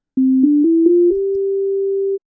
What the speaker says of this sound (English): Let's say we start with a basic sine wave.